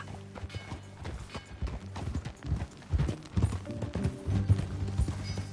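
Horse hooves clip-clop at a steady riding rhythm in Red Dead Redemption II, close and moderately loud, with a brief snort or whinny over the ongoing trot.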